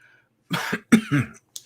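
Two or three short, sharp coughs in quick succession, close by, with a brief throaty tail.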